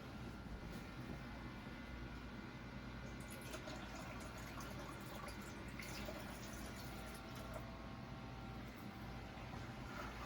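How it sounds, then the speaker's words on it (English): Water being poured into a large home fish tank, a steady continuous rush and splash with a faint background hum. "I think I need to add more water"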